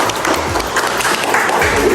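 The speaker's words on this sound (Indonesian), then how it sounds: "beri aplaus buat kelompok 2 dong." A classroom group claps for group 2, giving a short, dense burst of applause that fills the room evenly at close range.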